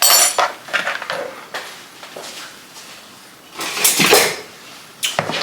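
A metal spoon clinking and scraping in a pot as garlic is added, loud close clatters in bursts with quieter gaps between, no voices.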